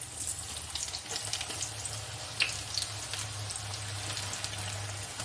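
Tapioca chips fry in boiling coconut oil, giving a steady soft sizzle with scattered crackles and pops and no speech.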